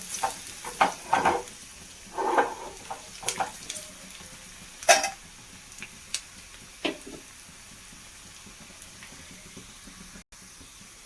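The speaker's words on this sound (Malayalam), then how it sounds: "ഇളക്കി ഒന്ന് നന്നായി മൂത്ത് വരട്ടെ." Crushed chili stirred as it fries in a pan, bursts of scraping and light sizzling at irregular intervals, close and fairly quiet, easing off toward the end with no talking.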